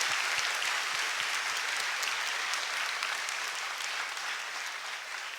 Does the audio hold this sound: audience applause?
yes